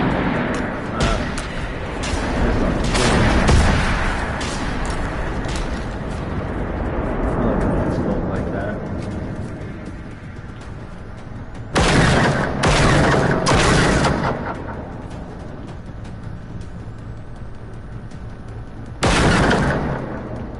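Video game rocket launches and explosions, booming blasts and crackling bursts that come in repeated loud clusters over a continuous rumbling battle din, with a voice talking through parts of it.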